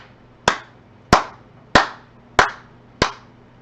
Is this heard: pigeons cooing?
no